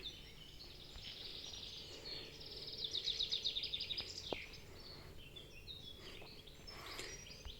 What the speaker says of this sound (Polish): Ładnie ptaki śpiewają na wiosnę